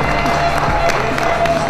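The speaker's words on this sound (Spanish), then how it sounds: "para vos también el aplauso." A crowd at a filial luncheon in La Calera applauds, dense clapping and a few cheers packed together for a moment, loud and close, with a murmur of voices underneath.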